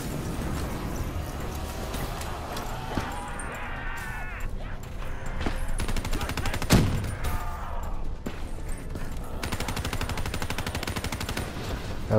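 Dense, continuous game gunfire from Black Ops 3 Zombies on Nightmare difficulty, rapid bursts and single shots layered over a busy, noisy background with one loud close blast midway.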